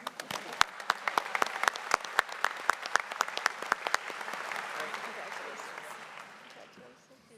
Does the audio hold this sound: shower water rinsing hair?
no